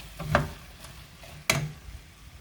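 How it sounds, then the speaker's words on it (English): A spoon stirs paprika into potato soup in a pot, making two distinct scraping knocks against the pot with a faint sizzle and low cooking hiss between them, close and fairly quiet. "So let's stir this around."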